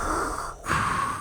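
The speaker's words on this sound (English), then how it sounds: "I feel like I'm breathing really loud in the microphone." Heavy breathing close into a microphone, a loud exhale followed by a brief pause and another rushing breath, sitting right up against the mic with no talk.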